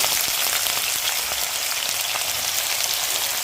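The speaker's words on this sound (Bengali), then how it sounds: "তেল গরম হয়ে গেছে তার মধ্যে দিয়ে দিচ্ছি আপনার পেঁয়াজ কুচি" Chopped onions frying in hot ghee and oil, a dense, loud, continuous hiss and crackle close by, steady throughout with faint spattering pops and no voices.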